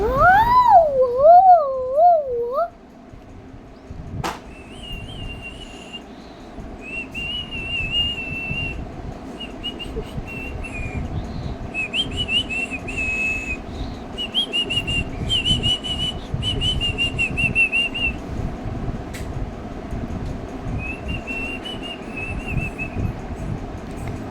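A whistle in a Roblox butcher game gives a loud, wavering warble at the start. Thinner, higher whistled tones then recur intermittently over a steady low game background, with no talking.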